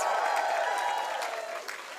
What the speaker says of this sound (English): So a huge round of applause for all these new writers.